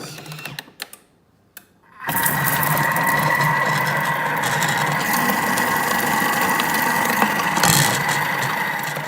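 A Thermomix blends goat cheese cream at speed 3.5, its motor rising abruptly after two seconds of near silence into a steady, even whirring drone that runs close and loud to the end.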